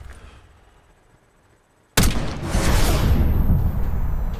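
Gunfire in the Black Ops 6 campaign: a faint quiet stretch breaks into a sudden loud blast, followed by sustained rumbling gunfire and explosive noise.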